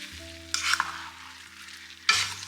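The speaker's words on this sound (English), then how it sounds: "let's mix all of that together" Sloppy joe sauce being stirred in a pan, with two short bursts of wet scraping and sloshing over a low background hum, separated by a quieter pause.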